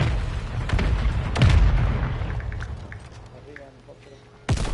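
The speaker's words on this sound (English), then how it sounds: "Hostile mortar strike in the area." Booming mortar strike explosions in a video game, several heavy blasts landing over a rumbling battlefield bed, one loud impact in the middle and a sharp burst at the end, with voices talking throughout.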